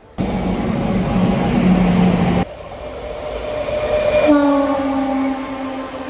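A train pulls out of Malda station from platform 1, a continuous close rumble of rolling wagons with a sustained tonal squeal or horn rising toward the end; no talking.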